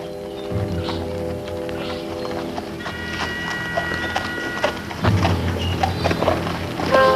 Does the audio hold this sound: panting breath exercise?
no